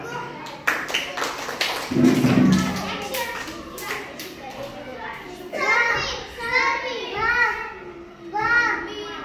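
A first-grade class at a village school in Manegaon claps: a handful of sharp, separate hand claps near the start, then children's voices speaking close by.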